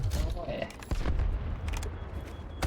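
Rapid bursts of gunfire in a multiplayer shooter video game, loud and sustained with sharp shots throughout, while excited voices talk over the action.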